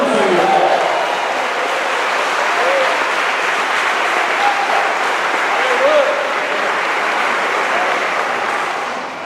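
A church congregation applauds in a long, sustained wave of clapping that holds at an even loudness and fades slightly at the end, with voices blended into the roar.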